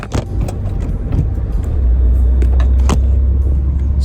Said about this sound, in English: it makes a really satisfying like thud when you're in gear.